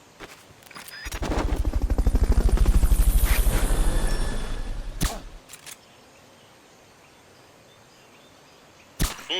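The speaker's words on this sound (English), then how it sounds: "Fulton recovery subject confirmed onboard helicopter." A Fulton recovery sequence from Metal Gear Solid: Peace Walker on PS3: a loud, rapidly pulsing whoosh that swells and fades over a few seconds, punctuated by sharp clicks and a final snap, with no talking.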